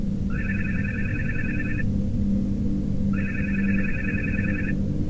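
A telephone rings in two long electronic trills separated by a pause, clear and fairly close over a steady low background rumble.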